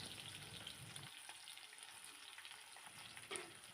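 Onion frying in oil after chana dal and cumin for a vangi bath gojju, with a steady, dense sizzle that briefly thins out in the middle, and a faint stir near the end.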